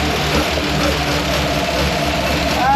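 A Jeep FC-150 engine idles with a steady low rumble, close and loud, running evenly throughout with a slight rise in pitch near the end.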